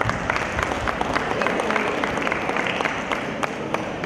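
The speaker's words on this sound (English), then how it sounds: "Big round of applause." Steady audience applause from a crowd at a medical conference diagnosis quiz, dense continuous clapping filling the whole stretch with faint crowd murmur underneath.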